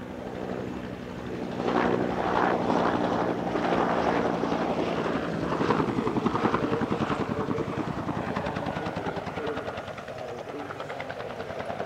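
Two Bell UH-1 Huey helicopters fly at an airshow, their rotor blades thumping in a fast steady chop that swells louder as they pass, then eases off, over wind noise.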